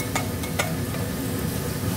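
Onions fry lightly in a pan for mutton curry, an even sizzle broken by a few sharp scrapes of a spoon stirring against the pan.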